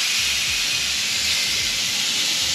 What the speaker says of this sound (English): So pan, we put some olive oil heating in there, and we can drop in the tenderloin